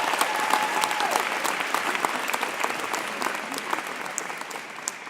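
An audience at a business talk clapping steadily, a dense patter of many hands that continues evenly and slowly softens toward the end, fairly close.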